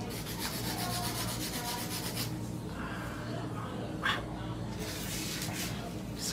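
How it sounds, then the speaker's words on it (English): A nail file rasps in steady, rapid back-and-forth strokes as fingernails are hand filed, fairly quiet and close, with soft chatter from a nail salon in the background. "Just a quick hand filing."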